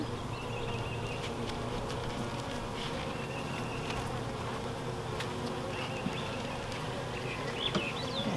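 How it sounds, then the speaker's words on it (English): A dense, steady hum of many honeybees buzzing close by at an open hive, continuous and even, with occasional brighter whines of individual bees passing near. "Cleaning up some of the bees here."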